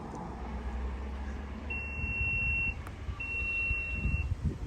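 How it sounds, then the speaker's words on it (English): Two steady electronic beeps from a Renault Rafale tailgate confirm a newly set opening height, each about a second long and separated by a short gap, over an outdoor background hum. "That beep is to say this is the new opening position"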